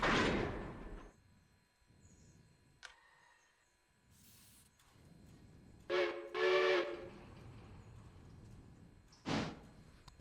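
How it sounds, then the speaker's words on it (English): A heavy 500-ton, 300-foot train in the Railroader video game, from a Thomas Valley Cabbage Company mod, rumbles low between short whistle blasts, with a longer double blast midway and another near the end. "It's actually quite a heavy train"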